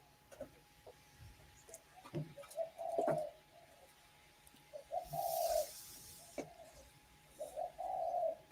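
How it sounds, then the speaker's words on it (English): Pigeons coo in soft repeated phrases, close by and clear, in several separate bursts spread across a quiet indoor setting, with occasional small knocks and faint background sounds between them. "that's the pigeons here"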